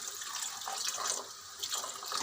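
Water pours into a pot of mash daal being cooked, a continuous, close splashing trickle with small surges, heard alone without talk.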